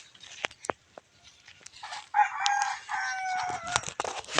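On a rural provincial farm a rooster crows loudly and close in one long drawn-out call, preceded by scattered short clucks and chicken sounds.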